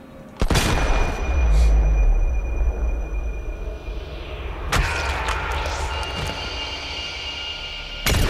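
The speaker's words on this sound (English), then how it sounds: "Satellites picked up a plane carrying a hot delivery towards the airfield." An airplane drones steadily toward an airfield in the video game Sniper Fury, a loud continuous engine roar broken by sharp booming shots near the start, middle and end.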